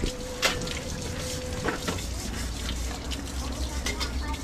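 Water gushes steadily from a water pump in a steady, fairly loud rushing flow, with a few sharp knocks and faint background sounds along the way.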